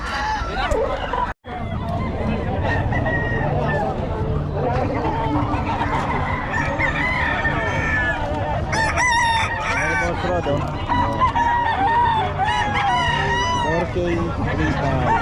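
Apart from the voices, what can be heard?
roosters crowing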